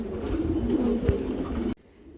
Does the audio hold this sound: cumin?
no